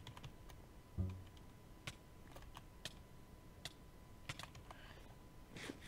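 Faint, sparse keystrokes on a computer keyboard while typing in a Minecraft game chat, with irregular single clicks and one louder thump near the start in a quiet room.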